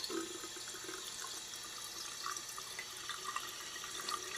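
Tap water running steadily into a sink in a video game, a continuous close splashing stream with faint drips and no voices.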